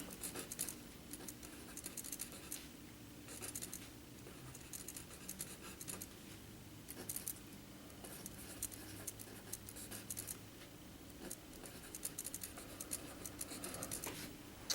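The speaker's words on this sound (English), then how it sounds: "I will write it quietly while you write it without looking." Pencil or marker scratches steadily across paper in a quiet math classroom as a precalculus identity is written out, soft continuous strokes with small taps and pauses, faint and close, with no talking.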